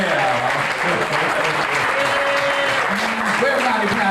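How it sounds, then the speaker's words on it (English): Audience clapping at a country hoedown show, a loud, close crowd of hands applauding steadily throughout while a voice talks over it. "Give him a clap if you will."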